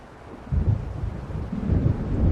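Low rolling thunder from an approaching storm in the Alan Wake video game, two deep rumbles swelling in quick succession and building toward the end.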